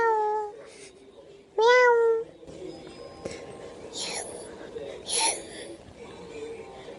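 A young girl imitates a cat's meow with two drawn-out, wavering mewing cries, followed by softer breathy, whispery sounds and faint squeaks.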